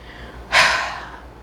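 A single short throat clearing, a breathy rasping burst that rises suddenly, peaks briefly and then trails off into quiet room tone.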